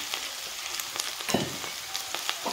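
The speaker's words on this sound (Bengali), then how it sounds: "লাল করে ভেজে নেব আলুটাকে।" Boiled potato pieces fry with onion in a pan, a quiet steady sizzle with scattered crackles and pops and a few stirring scrapes, no voices.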